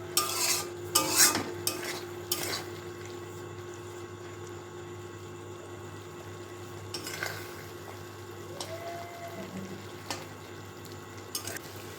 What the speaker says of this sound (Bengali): এবার তেলটা দেওয়ার পর একটুখানি নেড়ে চেড়ে এবার তুলে নিচ্ছি